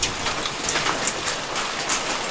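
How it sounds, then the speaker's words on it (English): Hail falls in a stormy sky near Killarney, close to a dock. It makes a dense, continuous patter of many small hits, with scattered sharper ticks standing out from the steady hiss. "Ooh, hail."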